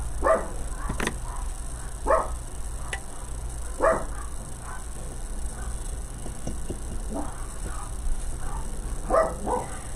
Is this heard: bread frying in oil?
no